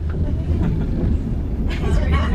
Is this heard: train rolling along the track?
yes